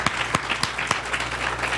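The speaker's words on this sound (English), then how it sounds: "Let's clap unto the Lord one more time." Church congregation clapping, several sharp evenly spaced claps from nearby over a bed of scattered crowd applause.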